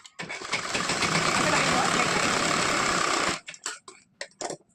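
A sewing machine runs a continuous stitching burst on a blouse's placket seam, steady and close, then stops into short separate clicks and handling noises.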